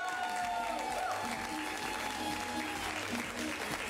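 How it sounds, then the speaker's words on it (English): A comedy-club audience gives a comedian a steady round of applause, the clapping fairly faint and continuous with some crowd murmur and whoops mixed in. "give him one more round of applause, Dylan Jenkins"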